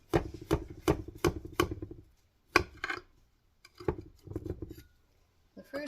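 Knife slicing through a still-hot, crumbly blueberry streusel cake, giving a run of crisp, sharp cuts and crumbly taps close by, then a brief pause and a few more scraping strokes.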